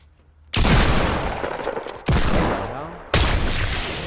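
Gunfire in the video game Fortnite, three loud close bursts of shots in quick succession, each ringing out briefly before the next.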